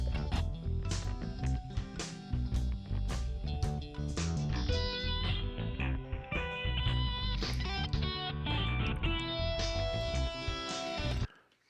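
Dense, continuous music run through the Aura effect, an averaging of the waveform's rate of change that acts like a very steep low-pass filter, with steady drums and harmonic layers at full level, ending abruptly.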